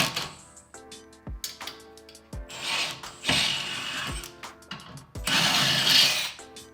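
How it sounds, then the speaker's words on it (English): A ratchet wrench works a 17 mm bolt on the rear suspension of a Honda Civic Type R FK8, giving clicking bursts in short runs with brief pauses and mechanical clunks, close up, no voices. "All I really do is drop this bolt right here, which is a 17"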